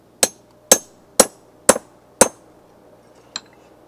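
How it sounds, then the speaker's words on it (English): Hammer blows on a steel strip, dimpling the metal near its end to start a rivet hole for a survival knife: five sharp, evenly spaced ringing strikes, then a lighter tap after a pause, close and clear with no talk. "you dimple it and you grind the dimple away"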